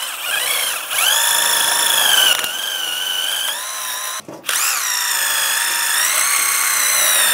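A power drill spins a wire brush to clean a rear brake caliper bracket on a 2004-2010 BMW X3, a loud continuous whine that dips briefly twice and rises again, close and alone without talk.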